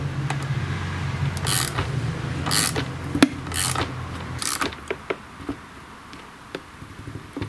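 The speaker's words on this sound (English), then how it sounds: "I'm using a 19mm socket on my ratchet here" A ratchet fitted with a 19mm socket turns a nut on a STIHL chainsaw bar stud, giving a few sharp clicking and creaking bursts up close, then quieter scattered ticks as the work slows.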